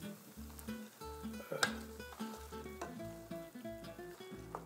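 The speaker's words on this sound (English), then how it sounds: "You could hear already you started to fry a little bit." Lentils and smoked summer sausage fry in a pan with a steady low sizzle, largely masked by louder tonal background music playing throughout.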